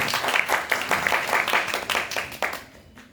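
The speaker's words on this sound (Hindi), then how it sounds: "तो एक बार जोरदार तालियां हमारे मुख्य अतिथि श्री अजय जायसवाल जी के लिए।" A theatre audience gives loud, sustained applause for the chief guest, Shri Ajay Jaiswal, before a play begins; dense clapping carries steadily, then thins and stops near the end.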